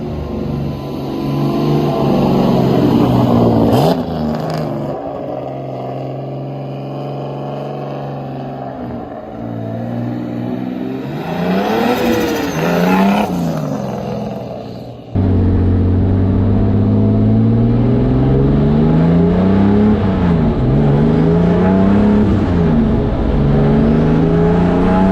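Turbocharged BMW M50 inline-six car on flex fuel driving and accelerating, engine droning loudly with rising and falling revs through gear changes, a brief drop in level midway, no voices.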